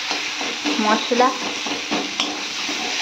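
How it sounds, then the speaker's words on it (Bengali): Fish roe frying in spiced oil in a pan, a steady close sizzle with stirring scrapes, while a voice speaks briefly over it. "সেটাকে ভালো করে ভাজছি"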